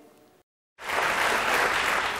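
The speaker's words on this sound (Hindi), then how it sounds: "तालियां क्यों बजा रहे हैं?" Studio audience applause on a comedy talk show, starting abruptly after a short silence and holding as a loud, steady wash of many hands clapping.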